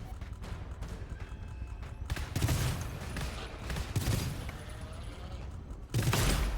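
Burst cannon fire in the GTFO video game, a dense rattling volley of rapid shots that fades and then kicks back hard near the end, loud against a busy game background.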